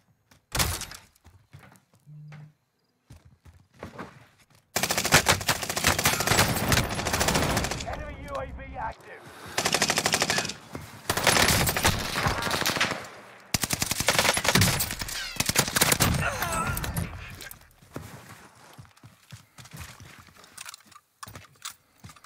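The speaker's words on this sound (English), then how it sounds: "That guy was way too ready for the gunfight." Bursts of machine gun fire ring out during a Warzone solos gunfight, with several long, dense volleys separated by short pauses and a few isolated shots and thuds, close and loud throughout.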